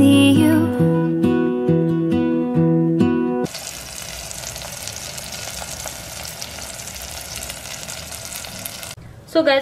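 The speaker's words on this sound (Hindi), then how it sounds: "अभी मैं इसमें थोड़ा सा कॉर्नफ्लावर ऐड करके मिक्स करके जस्ट इसको फ्राई कर लूँगी" Cornflour-marinated prawns fry in white oil in a pan, a steady dense sizzle that follows a few seconds of melodic music and ends with a couple of sharp knocks.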